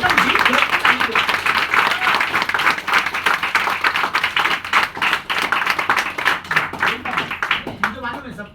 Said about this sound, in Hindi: इनके लिए ताली दो सबको, सब लोग एकदम जी खोल के ताली दो।